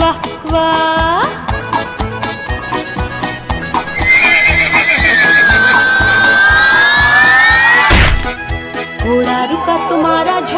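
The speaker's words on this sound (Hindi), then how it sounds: "घोड़ा टप टप भागा जाए" A horse runs in a children's Hindi nursery rhyme, with steady clip-clopping hoof beats under a bright musical backing, a long neigh rising over the middle, then a sharp crash.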